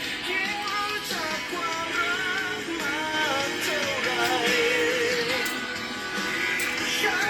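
Music with a full low end plays steadily from a small speaker, a wavering melody line over it, with no one talking.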